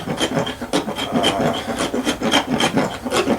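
A traditional hand float rasp files a horse's teeth, giving close, rhythmic back-and-forth grinding strokes, roughly three per second, with a dry scraping texture and no talk.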